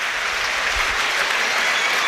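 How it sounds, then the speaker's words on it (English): A football crowd at a Premier League match between Sunderland and Arsenal makes a broad, steady roar of cheering and clapping, dense and continuous throughout without a break. "You hear the crowd in here willing their team to go forward and get that equaliser."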